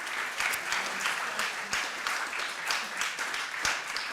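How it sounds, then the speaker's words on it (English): An audience claps to welcome a speaker at a US presidential election discussion event, a steady, moderately distant applause of many hands that keeps an even patter throughout. "Welcome and applause to you."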